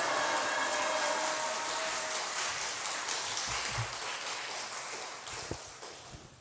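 A church congregation at a Sunday service applauds as a visiting missionary comes forward. The dense, hissing wash of clapping slowly fades, with a few louder claps near the end.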